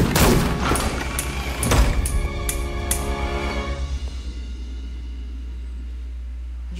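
Gunfire in a Spider-Man DLC video game: a burst of several sharp, loud shots with booming low rumble in the first three seconds, then the blasts fade into a sustained low hum and quieter background.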